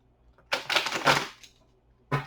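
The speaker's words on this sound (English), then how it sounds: "Or I'll just shuffle the cards." Tarot cards are shuffled by hand in two quick bursts of papery riffling and slapping, close and crisp, separated by a short quiet pause.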